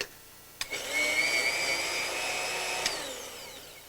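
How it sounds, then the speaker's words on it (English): A blender switches on with a click and whirs steadily while blending tomato and nuts for a raw food dish, a loud motor whine that holds for a few seconds before winding down. "And all it is how long you leave the blender on."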